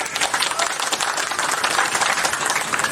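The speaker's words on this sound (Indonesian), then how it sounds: "Tepuk tangan untuk Gunung Kidul" An audience at a Gunungkidul cultural forum claps together in a dense, continuous burst of applause, full and even throughout, with no voices standing out.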